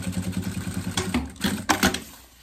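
A sewing machine stitching a fabric toiletry bag, a fast steady rhythmic whir of needle strokes that pauses and restarts with small clunks, close and alone.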